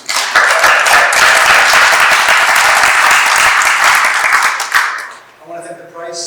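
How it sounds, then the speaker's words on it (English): Audience applause at a Newark Public Library event, a full, continuous burst of many clapping hands lasting about five seconds, then fading as a voice begins speaking. "if we have a round of applause"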